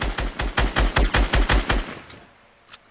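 Fortnite gunfire comes as a rapid burst of about a dozen evenly spaced, loud, close shots, then the firing stops and a single faint shot follows.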